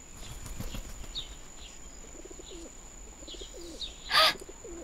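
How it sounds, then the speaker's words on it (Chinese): Pigeon cooing softly in a few low repeated calls, fairly quiet against light background noise, with a brief louder burst near the end. "你们看，有一只鸽子。"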